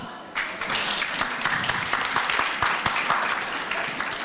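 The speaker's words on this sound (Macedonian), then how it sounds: "Еден аплауз за вас." Warm round of applause from a women's conference panel audience, starting quietly then swelling into steady, dense clapping that carries on throughout.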